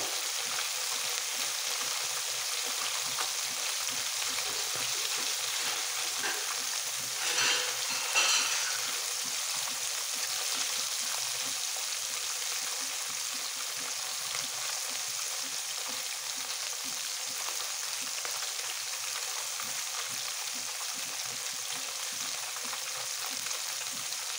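Fish frying in plenty of oil for a Padma River mixed-fish broth, a continuous soft sizzle and crackle with a brief louder burst midway, no voices.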